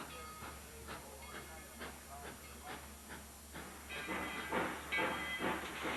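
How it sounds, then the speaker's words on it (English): A narrow gauge steam locomotive pulls off from a station on wet rail, rhythmic exhaust chuffs growing louder and quicker, under steady hiss and a low background hum. "Just pulling off from the station can be a challenge, especially when the rail is wet."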